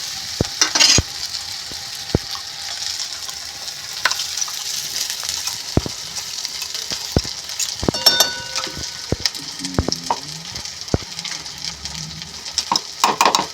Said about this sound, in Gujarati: હવે આપણે ક્રશ કરેલા ચણાને સાતળી લઈશું.